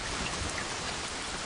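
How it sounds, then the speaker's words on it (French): Steady rain falling outdoors, a dense, even hiss of drops on surfaces with no break, moderately loud and continuous, with no voices. "Oh, ça y est, il pleut."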